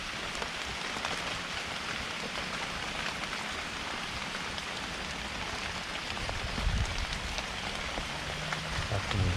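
Steady rain pours down in a eucalyptus woodland during mushroom foraging, an even, dense patter on the ground and leaves that continues throughout, with a faint thump near the end.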